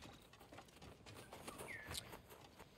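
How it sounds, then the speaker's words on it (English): Birds in the Ghost of Tsushima game world give faint, scattered chirps and a short whistled call over a quiet rustling background. "Where the fuck did that bird go?"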